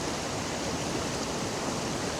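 River rapids and a waterfall where two rivers meet, a steady full rushing roar of churning water, close and loud throughout with no voices.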